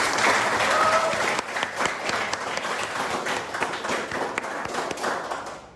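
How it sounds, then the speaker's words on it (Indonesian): A class claps steadily in applause, a dense patter of hands close by that gradually thins out toward the end. "Tepuk tangan untuk Laura."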